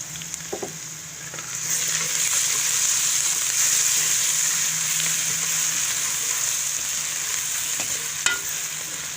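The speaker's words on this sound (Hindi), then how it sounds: "प्याज फ्राई हो गया है, अब मैं लहसुन अदरक पेस्ट शामिल कर रही हूँ।" Garlic-ginger paste frying with already-fried onions in a pan for a village-style keema aloo matar, a steady loud sizzle with stirring scrapes throughout, no talk.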